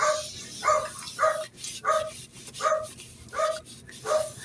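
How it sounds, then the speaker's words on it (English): A small dog barks repeatedly in the background, seven or so sharp yaps at a steady rhythm, moderately loud over a faint hum. "that's my mother-in-law's little doggy you hear in the background there"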